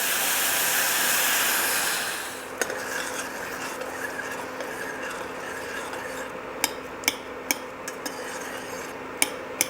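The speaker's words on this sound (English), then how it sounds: "We're gonna bring this to a boil." Blueberries and maple syrup heat in a pan on the stove, a steady broadband sizzling hiss that softens after two seconds, then light bubbling with occasional sharp clicks of a utensil against the pan.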